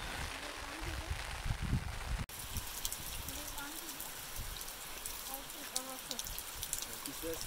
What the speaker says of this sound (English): But the rain simply wouldn't let up.